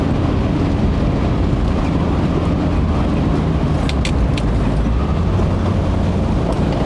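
A 1967 Audi 80 Variant on a road test, with steady engine and road drone blended with wind rush throughout, continuous and fairly loud.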